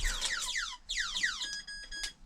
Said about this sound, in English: I've come into the van, so my alarm is now sounding.